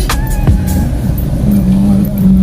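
Steady road traffic on a busy stretch near Kızılcahamam, with cars streaming past amid a constant low rumble, plus a brief engine rise and continuous background noise.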